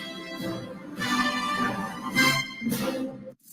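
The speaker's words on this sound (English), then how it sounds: "That's the sound of Downy Unstoppable scent beads going into your washing machine" Downy Unstoppables scent beads poured into a washing machine, a grainy rushing rattle that swells and pulses in a few surges before stopping abruptly, close and with no voices.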